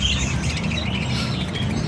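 A pet greywing bird squawks in short, harsh bursts, close and loud, over a steady low rumble of background noise.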